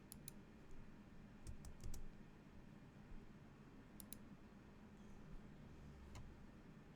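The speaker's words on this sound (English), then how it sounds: "Use the space bar on the keyboard to add 2 more spaces in front of the p element" A computer keyboard's space bar is pressed during coding practice, giving a few sparse, faint clicks that stand out from a quiet, hissy room background.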